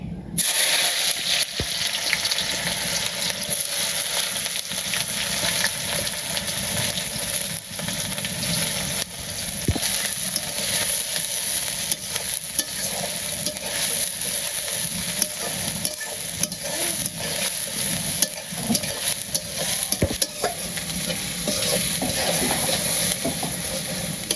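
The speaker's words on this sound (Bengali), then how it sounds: "এই পাশে আমার পেঁয়াজ একটু ভালো ভাজা করলাম" Onions sizzle loudly and steadily in hot oil on a clay stove, a dense continuous frying hiss with occasional stirring scrapes.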